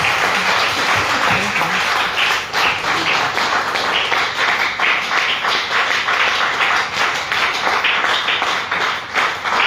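An audience in a hall at a health awareness program claps all together: loud, sustained, dense applause with no break and no voices over it.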